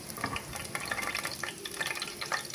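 Oil crackles and sizzles in a pan with irregular popping, mixed with light scraping as it is stirred.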